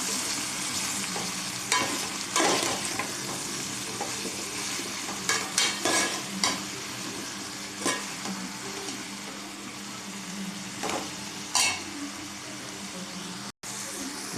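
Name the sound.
stirring okra pieces in pan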